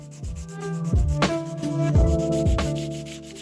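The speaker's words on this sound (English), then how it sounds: "I really enjoy with these projects is the hand sanding these curved stylized moldings" Rhythmic strokes of sandpaper rubbing over wood, each back-and-forth pass giving a scratchy swish, close and steady.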